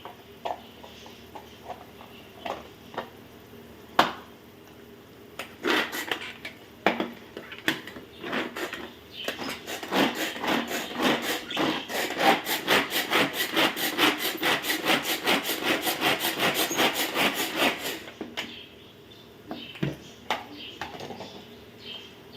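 Tomatoes whirring and rattling inside a hand-pulled kitchen chopper, a dense run of rapid scraping, rubbing strokes that builds to a steady burst near the middle and then stops, close and fairly loud with no talking.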